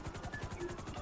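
Helicopter rotor chopping in Grand Theft Auto V Online, a steady rapid pulsing thump with engine whine over it, fairly close and continuous throughout.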